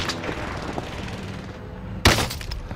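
A single sharp gunshot from a sniper rifle in a video game cracks out near the end, loud and sudden over a busy background of game noise.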